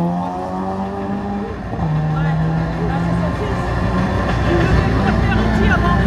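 Race car at the Vallée Heureuse hill-climb slalom launching and pulling away, a raspy engine note climbing through the gears and growing louder, with an announcer talking over it.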